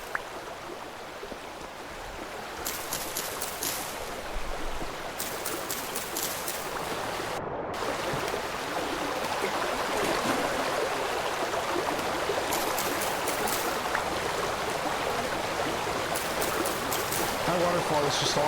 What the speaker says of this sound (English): That waterfall is just awesome. It's very loud beside it, though.